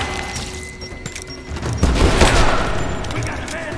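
Bursts of rapid gunfire and booming impacts from the video game Rise of the Tomb Raider, a dense suppressing-fire volley swelling midway, loud and close, with voices shouting over the shooting.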